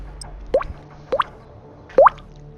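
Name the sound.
mouth imitating dripping water, beatbox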